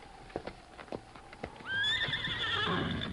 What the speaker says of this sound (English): My horse is behind that rock over yonder.